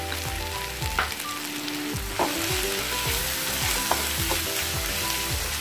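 Turmeric, chilli powder, garam masala and pepper fry in a pan for a chicken kathi roll filling, with a loud, even sizzle under regular scraping strokes of a spatula and occasional knocks against the pan.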